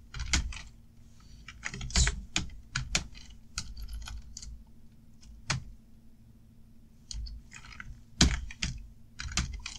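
Keys on a computer keyboard clatter as a search is typed, in quick uneven bursts of close, crisp clicks separated by short pauses, over a faint electrical hum and no voices.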